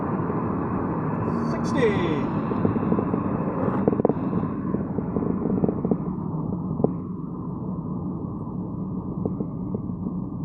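A Citroen C4 Cactus pulling hard at full throttle in third gear, its engine rumbling steadily from inside the cabin with road noise, while someone says a few words over it.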